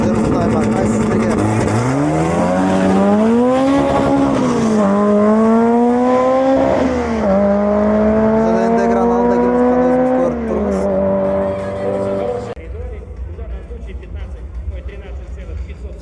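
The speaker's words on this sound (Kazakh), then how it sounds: "Mercedes C-класс универсал және де Honda Integra автокөліктер жарысып жатыр" A Mercedes C-Class wagon and a Honda Integra drag racing in Kazakhstan, engines screaming loud and close through repeated rising gear-change sweeps before cutting off abruptly near the end.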